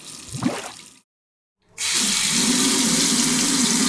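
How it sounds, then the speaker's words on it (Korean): Water runs steadily from a bathroom sink faucet with a loose, wobbling handle, first splashing unevenly, then stopping briefly before gushing again as a loud, continuous stream into the basin. "수도꼭지의 손잡이가 덜렁거리면서 물이 계속 나옵니다."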